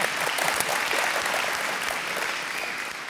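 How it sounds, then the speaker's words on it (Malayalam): A studio audience claps for a Malayalam television comedy show, with a dense burst of applause that stays steady and then gradually thins toward the end. "ഇഷ്ടപ്പെട്ടെങ്കിൽ നല്ലൊരു കൈയടി."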